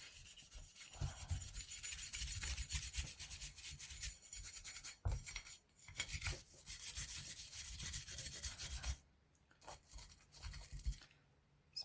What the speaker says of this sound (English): We can brush off the slide.